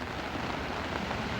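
Steady rain with a constant broadband wash of drops and no clear breaks, fairly loud and close.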